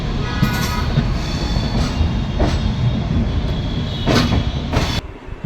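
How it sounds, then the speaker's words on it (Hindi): The 12180 Intercity train pulls into platform 2 at Lucknow Junction, a loud, continuous rumble of wheels on rail with rhythmic clatter and several sharp squeals or hisses toward the end, heard from on board. "ट्रेन अब हम लोगों की पहुंच रही है लखनऊ जंक्शन के प्लेटफॉर्म नंबर 2 पर"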